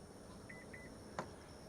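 Two short, faint electronic beeps in quick succession from a 2023 Honda Pilot Touring setting its tailgate height, followed by a couple of sharp mechanical clicks.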